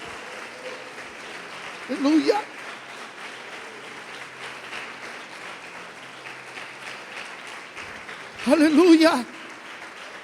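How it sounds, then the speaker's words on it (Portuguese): A church congregation applauds during a sermon in a steady wash of clapping, with a voice loudly shouting praise over it twice. "Quem pode aplaudi-lo?"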